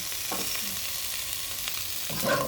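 Chicken wings stir-fried in a hot pan over high heat, a steady crackling sizzle with a few scraping stirs, close and fairly loud, no voices.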